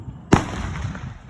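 A single big Fourth of July firework bursts with a sharp, loud boom partway through, followed by a crackling, rumbling decay over a quiet background.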